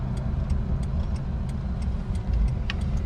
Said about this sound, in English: There's nothing quite like driving a classic American car